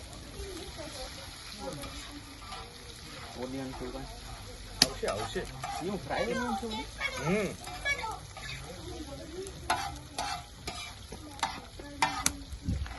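Garlic drops into hot oil in a home kitchen cooking chole kulcha, with frying sizzle and clattering stirs rising and falling while people chat over the cooking.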